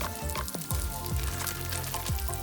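Flour-dusted fish fillets frying in a hot pan, giving a steady close sizzle and crackle with a few soft clanks of utensils, no one talking.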